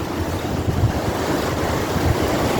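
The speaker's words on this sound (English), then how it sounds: "That's white water. That's what happens when a huge body of water collides." Whitewater from colliding waves roars steadily with wind, a loud, dense wash of surf and low rumbling close to the microphone and no voices.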